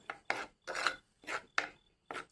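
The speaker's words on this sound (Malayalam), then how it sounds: "നമുക്കൊന്ന് ഇളക്കി കൊടുക്കാം" Slow, rhythmic scraping strokes, five in a row, as a spoon stirs Kerala fish curry with tamarind water in a pot, close and fairly quiet with short pauses between.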